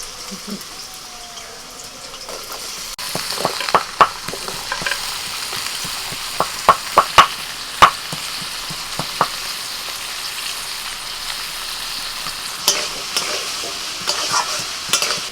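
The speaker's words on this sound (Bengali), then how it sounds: "ঘুগনির জন্য ছোট ছোট করে আলু কেটে নিয়েছি আলুগুলো ভেজে নিচ্ছি" Small diced potatoes frying in oil in a pan for ghugni, a steady sizzle broken by sharp clinks and scrapes of a spatula, mostly in the middle stretch, with no talking.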